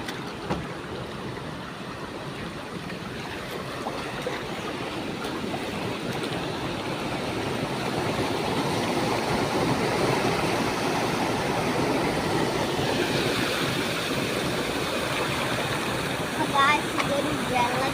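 A waterfall roars as a steady, broad rush of water that swells louder partway through and then stays constant, with no breaks in the flow.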